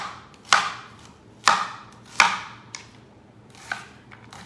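An onion being chopped on a cutting board: four or five sharp knife strikes at uneven intervals, each a crisp thud with a short ringing tail, close and alone.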